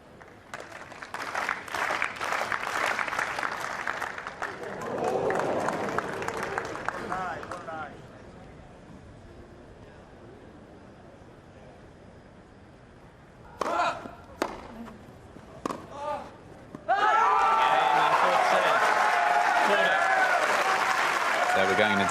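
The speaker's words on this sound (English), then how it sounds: "You could hear the cheer." Crowd cheering and applause rises from nearby Court 18 at Wimbledon, where Korda and Khachanov are playing; loud bursts of cheering come in waves with a quieter lull between, and a sharp roar near the end.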